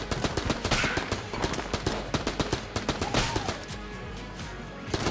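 AK rifle gunfire in the Enter the Gungeon video game, rapid repeated shots in quick bursts with other game effects layered over them, fairly loud and continuous over a few seconds.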